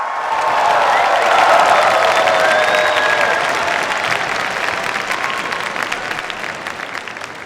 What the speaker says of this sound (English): express just how excited and how proud you are of our students by clapping and cheering as loud as you can